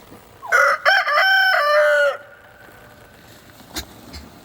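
A rooster crows once, loud and close, a long harmonic cock-a-doodle-doo lasting about two seconds, then quiet outdoor background with a faint brief chirp.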